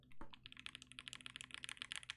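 Rapid, crisp keystrokes on an ROG Azoth Extreme gaming keyboard follow one louder thump, the typing close and steady in an otherwise quiet room.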